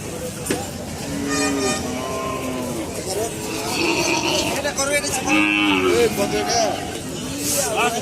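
Cattle low intermittently at a busy Indian cattle market, several moos rising and falling amid crowd chatter, with vehicle horns tooting now and then in the background.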